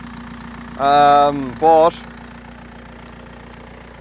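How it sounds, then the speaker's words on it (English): A 2-liter diesel car engine idles in a low, steady hum throughout, while someone talks briefly over it. "our trusty 2-liter diesel engine. It does start, it does drive,"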